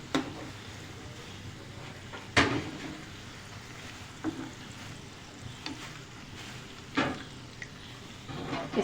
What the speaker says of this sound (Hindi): साइड चेंज करके अब हम इसको फ्राई करेंगे। स्लो आंच पे फ्राई करिएगा